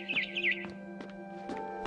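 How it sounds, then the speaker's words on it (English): A barn swallow outside a window in the game What Remains of Edith Finch gives a few quick, high chirps near the start, faint against a sustained tonal music bed. "Then I heard chirping outside my window."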